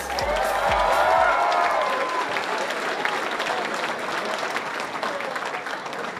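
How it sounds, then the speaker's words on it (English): An anime convention crowd applauds loudly after cosplay walk-ons, clapping swelling at the start and then tapering to a lighter, sustained patter. "Give them all a round of applause."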